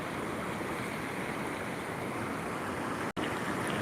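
Steady broadband rush of a village river flowing, loud and continuous at close range, with a single brief dropout near the end and no voices.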